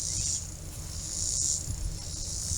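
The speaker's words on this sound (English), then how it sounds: "I hear a few cicadas." A few cicadas buzz outdoors in a steady, faint high drone with slight swells, and there is no talk.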